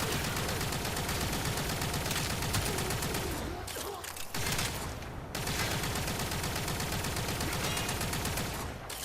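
The Rattletap kitgun in the video game Warframe fires almost without pause, a dense, loud, rapid rattle of shots with one brief gap.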